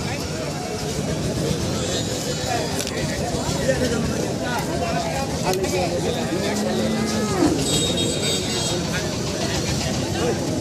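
Cattle mooing at a cattle market near the India–Bangladesh border, low calls rising from a steady noisy crowd with talk and background babble throughout.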